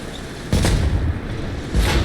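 Two heavy tank cannon shots booming from a War Thunder battle as an SU-100 is knocked out, each a sharp loud blast with a rumbling tail, about a second apart.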